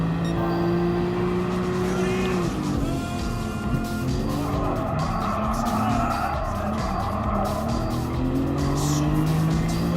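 Race cars in Gran Turismo Sport during a Nissan GT-R Cup, including a Skyline R33 GT-R and a GT-R Premium Edition, with a loud, steady engine drone that rises and falls in pitch alongside squealing, skidding tires.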